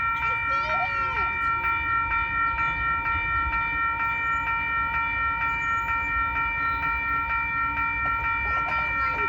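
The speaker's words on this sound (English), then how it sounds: "There's a freight train." A slow freight train passes a railroad crossing in Webster Groves or Kirkwood, with a steady low rumble of rolling cars and the constant multi-tone ringing of crossing bells, and a brief voice near the start.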